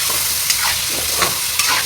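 Potatoes sautéing in a pan give a steady, close sizzle with a few scraping stirs of the spoon, and no one is talking.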